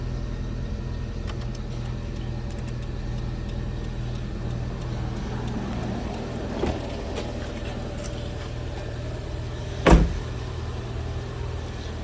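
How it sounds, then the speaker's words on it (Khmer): A 2006 used car's engine idles with a steady, quiet low hum close by, broken by one brief bump near the end. "បញ្ឆេះម៉ាស៊ីនអីឆេះស្ងាត់ល្អ"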